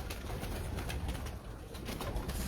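Prized purebred pigeons in a Karachi breeder's loft coo softly and steadily, a faint, continuous low murmur with no voices.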